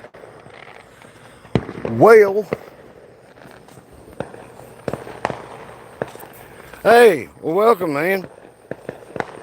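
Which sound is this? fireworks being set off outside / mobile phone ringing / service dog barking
fireworks being set off outside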